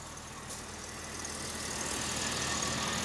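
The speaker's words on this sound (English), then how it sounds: "As you can tell, the compressor is spinning over right now." A Sanden air conditioning compressor runs in a Jaguar V12 car, giving a steady broad mechanical whir with engine hum that swells slightly toward the end, with no talking.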